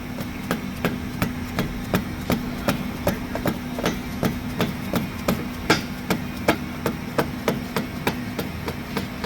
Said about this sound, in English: Using a dead blow so you don't mar up the paint. Just tap that in.